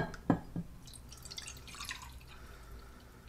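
Homemade leather elixir transferred from one container into another, a few close liquid drips and splashes at the start followed by a faint trickle and quiet handling noise.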